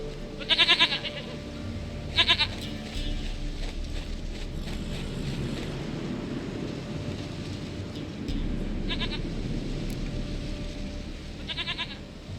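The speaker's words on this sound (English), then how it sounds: "Goat of mine, dearest, sweetest goat." A goat in The Witcher 3 video game bleats in short, shaky bursts, repeated several times across the stretch over a low rumbling ambient bed, close and fairly loud with no speech.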